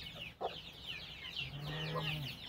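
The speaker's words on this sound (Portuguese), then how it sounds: "Tem uma galinha aqui de pintinho novo que eu comprei essa aqui domingo na feira." Hen with three young chicks clucking softly in a backyard poultry pen, a few short low clucks and a steadier low call over faint ambient noise, with high chick peeps chirping through the background.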